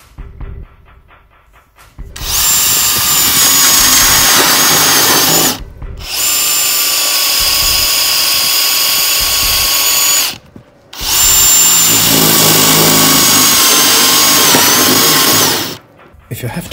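A FAMAG carbide-tipped Forstner bit boring into hardwood in three loud, sustained bursts of high whining drill noise, each separated by a brief pause.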